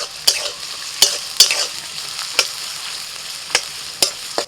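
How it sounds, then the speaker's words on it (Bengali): Capsicum and carrot fried in a little white oil in a wok, a soft steady sizzle broken by sharp, close clanks of the stirring spoon roughly every half second to second. "কড়াইতে অল্প সাদা তেল দিয়েছি, আর ওর মধ্যে আমি দিয়ে দিচ্ছি ক্যাপসিকাম আর গাজর।"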